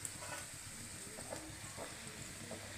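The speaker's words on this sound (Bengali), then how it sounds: "কচুরি তো একটু করে ভাজবো, কড়া করে, ভালো লাগবে। দেখো এইভাবে আমি সব কটা কচুরি ভেজে নেবো।" Pea-stuffed kachoris fry in hot oil, giving a steady close sizzle and hiss with occasional faint clinks of stirring and no voices.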